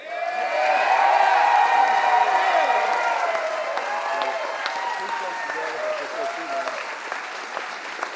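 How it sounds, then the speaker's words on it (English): Crowd applause at a UAW union contract rally for Daimler Truck workers, a loud sustained wash of many hands clapping with some cheering, steady throughout and slowly thinning toward the end. "give me a round of applause for our international president, Shawn Fain."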